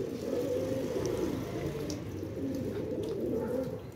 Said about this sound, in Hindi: माशाल्लाह इधर वाले कबूतर,